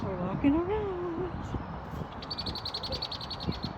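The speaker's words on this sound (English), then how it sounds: "Oh, did you hear that loud bird?" A loud bird call rings out at the Detroit Zoo, a brief rising and falling whistled cry near the start, with people talking and footsteps around it.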